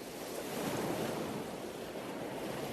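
Rising tide where Pacific seawater meets river water near the Golden Gate, heard as a steady broad wash of surging waves and wind, fairly faint and unbroken throughout.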